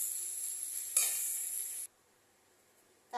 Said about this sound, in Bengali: আমি এবার খুন্তি দিয়ে আমি একটু এরকম করে দিলেই ওটা হয়ে যাবে